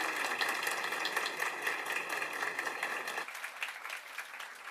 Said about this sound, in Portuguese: Gostaríamos de reforçar um aplauso caloroso para a nossa convidada